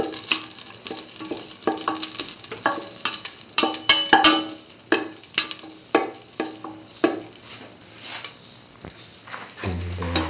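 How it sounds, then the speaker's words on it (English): Raisins sauté in a pan, with irregular light ticks and pops over a soft sizzle and spoon scrapes. A low thud comes near the end. "Now put in the raisins, saute thoroughly"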